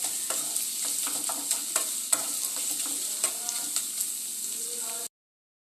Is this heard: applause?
no